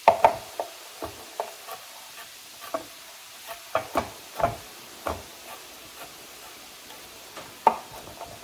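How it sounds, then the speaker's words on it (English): Knife strikes against a cutting board while garlic is chopped for pork chile verde, a series of crisp irregular taps close by, with a faint sizzle from softening onion in the background. "And I'm going to finish chopping the garlic."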